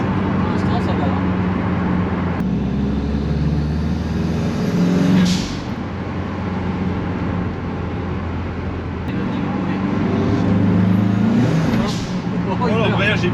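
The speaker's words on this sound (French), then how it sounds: "Oh, l'embrayage il patine." A Volkswagen T3 bus with a swapped Subaru engine drones under load with a slipping clutch, a steady rumbling engine sound that swells and eases twice, with people talking in French over it.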